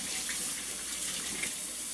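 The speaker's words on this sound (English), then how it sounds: "Now, I'm going to go ahead and rinse off my hands." Tap water runs steadily into a kitchen sink while hands are rinsed after cracking eggs for a cake mix, a continuous close splashing hiss with no talking.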